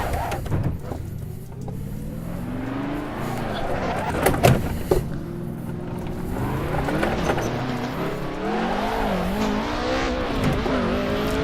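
A BMW M3 E30 in the Assetto Corsa racing game spins out, its engine droning and rising and falling in pitch over a broad roar, with brief squeal-like bursts near the middle and faint background voice.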